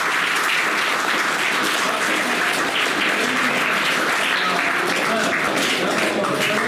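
A school audience claps steadily and loudly at a Sharada Puja and SSLC farewell event at Sri Vijaya High School, Gavinagamangala. The applause is dense and sustained throughout with no break.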